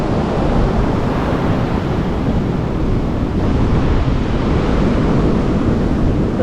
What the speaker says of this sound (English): Just crazy beautiful this beach is.